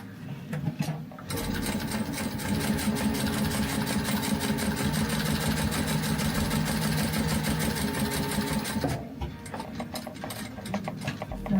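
A sewing machine runs steadily for several seconds, stitching a vinyl badge cover with a fast, even mechanical whir and clatter, starting and stopping abruptly.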